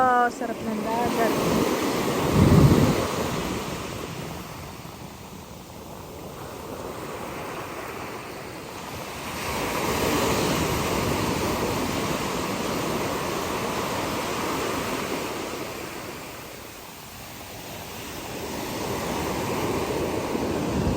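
Sea waves wash onto the shore at Sabangan in slow swells, a broad rushing surge that rises and fades every several seconds, with wind buffeting the microphone and a brief voice at the start.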